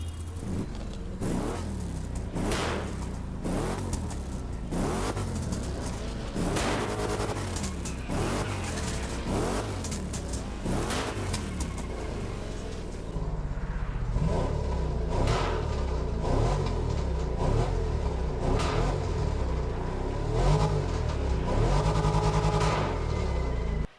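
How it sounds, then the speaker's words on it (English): A Camaro Z28 V8 in the racing game Motorfest revs and accelerates with a loud, deep rumble. Rapid pulses of throttle and gear-change surges run throughout, then settle into a steadier, heavier drone. "the rumbling sound of this Z28 is absolutely insane"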